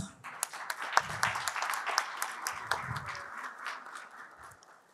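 Audience clapping at a human rights short film award ceremony, a steady patter of hand claps that gradually fades, fairly distant and moderate, with no voices over it.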